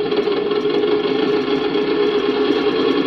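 A Scania truck sound module plays a synthesized V8 engine effect, a steady, buzzy idle rumble with a rapid even pulse that holds constant and close throughout.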